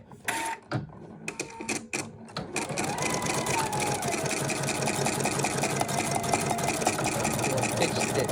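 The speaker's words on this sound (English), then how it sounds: "I'm going to do a fixed stitch and stitch this on" An embroidery sewing machine stitches an African patch. A few clicks and taps come first, then a fast, steady mechanical whirring chatter starts and runs on close and continuous.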